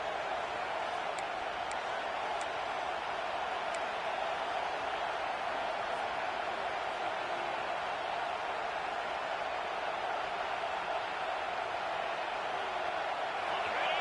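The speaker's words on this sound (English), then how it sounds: "Here comes this home crowd as the defense tries to get off the field on third down." A home crowd at a college football stadium sustains a loud, steady roar on a third down, a dense unbroken wall of voices with a few faint whistles above it.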